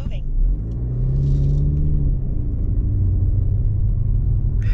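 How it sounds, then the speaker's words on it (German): A car on the road drives away at night, a steady deep engine and tyre rumble that stays loud and even throughout, with no sharp revving. "Das Auto ist weggefahren."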